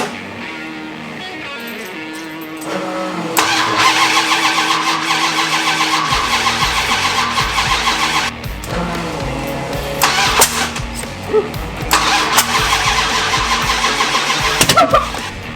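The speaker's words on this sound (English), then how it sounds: "We're cranking for oil pressure first." An engine is cranked repeatedly on the starter to build oil pressure, with rhythmic churning bursts broken by short pauses. Loud and close, with no voices.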